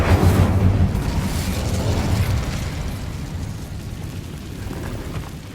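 Incendio fire spell cast in Hogwarts Legacy, a loud whooshing, crackling burst that fades over several seconds into a steady rumbling roar of flames.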